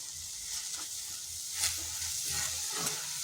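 Drumstick (moringa) leaves fry over medium heat in a pan. A soft, continuous sizzle carries faint stirring scrapes throughout, close but low in level, with no talking.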